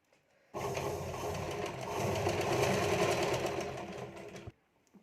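A sewing machine runs a seam joining lining to main fabric, a steady rapid whirring stitch that starts abruptly, holds for about four seconds, swells slightly in the middle, then stops sharply.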